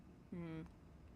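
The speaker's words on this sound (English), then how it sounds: "Excuse the beeping." One brief electronic beep, a steady tone lasting about a third of a second, sounds faintly over quiet room noise during a casual online chat.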